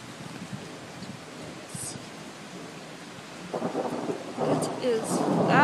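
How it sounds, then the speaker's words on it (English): Heavy rain pouring onto a flooded neighborhood street during a thunderstorm, a low rushing wash that swells louder toward the end, with faint voices and rustling. "This is what happens in my neighborhood when it rains."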